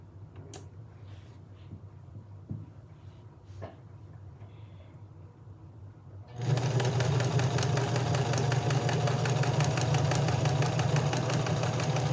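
A sewing machine starts up after a quiet stretch with a few soft clicks, then runs steadily and loudly, stitching the fabric of a prayer quilt.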